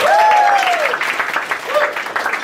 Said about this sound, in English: Just one more clap for our MC, Clint.